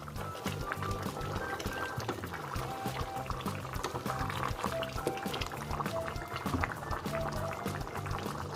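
A pot of oha soup boils steadily with dense bubbling and popping, close and continuous, over a low rumble.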